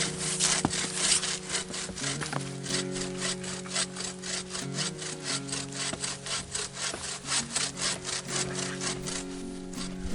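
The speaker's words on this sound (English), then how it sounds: "For green branches like this, a coarse tooth pruning saw works really well" A coarse-tooth pruning saw cuts through a green juniper branch outdoors, making a steady run of close, rasping back-and-forth strokes that repeat evenly throughout.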